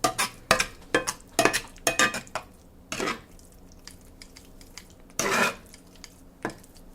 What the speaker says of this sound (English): Go ahead and stir that in,